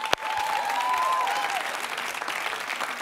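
Studio audience applause during a Greek TV talk show, a dense wash of clapping that starts right after a sharp click and carries on steadily for several seconds, with a brief whistling tone early on.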